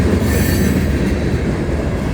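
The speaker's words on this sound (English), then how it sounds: "There's one of those flat spots that we talk about." A CSX freight train rolls steadily past close by, one wheel with a flat spot adding a loud continuous rumble and clatter throughout.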